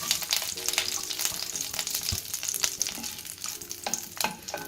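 Bay leaf, fennel seeds and cloves sizzle and crackle steadily in hot ghee, with soft stirring scrapes and small pops throughout, close up.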